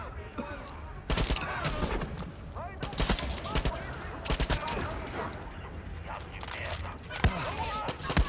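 Gunfire from the Far Cry 6 video game, bursts of shots crackling in several loud clusters across a dense battle din, with speech-like voices mixed into the busy combat sound.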